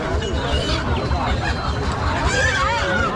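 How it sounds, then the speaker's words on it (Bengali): A dense chorus of chickens and roosters clucking and squawking in cages all around at a rural market, with murmuring voices and bustling crowd noise in the background. "এই যে দেখতে পাচ্ছেন খাঁচাও অসংখ্য মুরগি"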